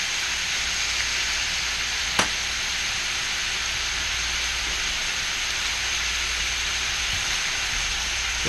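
Butter sizzles with shrimp in a stainless steel pan, a loud, steady hiss close by. A single sharp click cuts through it briefly.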